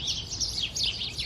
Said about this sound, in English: We have a fight with the sparrows.